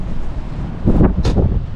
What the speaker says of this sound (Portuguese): É vento demais.